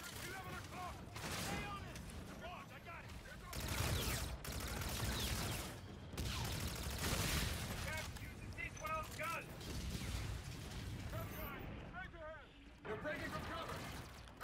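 A gun in Call of Duty: Infinite Warfare fires in repeated bursts of rapid shots, loud and close, with short pauses between them. Game effects and a talking voice come and go throughout.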